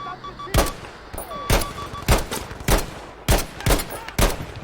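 Rifle gunfire in Battlefield V multiplayer: about seven loud, sharp shots in a steady, evenly spaced rhythm, each with a short echoing tail, with faint game tones in between.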